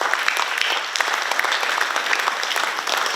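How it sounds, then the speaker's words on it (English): A graduation ceremony audience gives a round of applause for Pohnpei DOE, dense steady clapping from a crowd filling the whole stretch without any voices. "Let's give a round of applause to Pohnpei DOE for exceptional partnership and collaboration."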